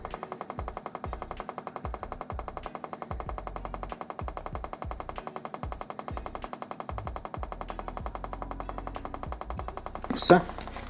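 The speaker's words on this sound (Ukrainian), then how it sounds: "Спочатку воно не відразу може піти, поки насос прокачається" Small electric pump of a V Mini 2 motorcycle chain oiler ticking in a fast, even rapid-fire pulse while priming, close and steady, ending in a brief louder burst.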